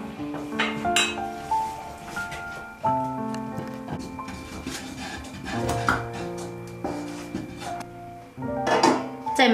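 A wooden or metal utensil stirs a thick flour-and-water paste (搅团) simmering in a pot on a home stove, giving intermittent scraping and clinking against the pot over steady background music.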